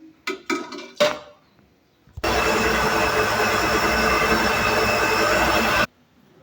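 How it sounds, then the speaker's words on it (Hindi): An electric grinder blends boiled tomato, garlic and ginger into a paste, running as one loud, steady whirring roar for about three and a half seconds before cutting off, preceded by a few short clattering knocks. "अब मैं इसको निकाल कर ग्राइंडर में ग्राइंड करूँगी।"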